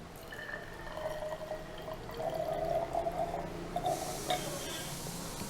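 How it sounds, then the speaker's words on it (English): Water added to white magnesium oxide ash from burnt magnesium ribbon, a gentle pouring trickle with a rising ringing tone, close and moderately quiet, with some background noise. "What I am doing, I am adding some water."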